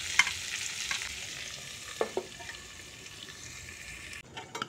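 Onions and pork frying on a low flame in a pan, a steady soft sizzle with a few faint stirring scrapes and clinks, close by and quiet.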